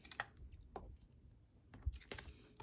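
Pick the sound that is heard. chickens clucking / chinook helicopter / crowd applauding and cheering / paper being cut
paper being cut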